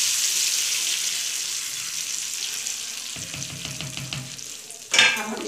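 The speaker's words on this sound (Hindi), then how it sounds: "अच्छे तरीके से मिक्स करेंगे।" Spicy moong masoor dal in a pot, a steady hissing sizzle first, then a ladle stirring with soft knocks and a louder clatter near the end.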